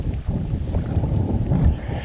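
Steady wind blowing from the north across a lakeside campsite at American Horse Lake, a continuous low rushing roar buffeting the microphone with no pauses or voices.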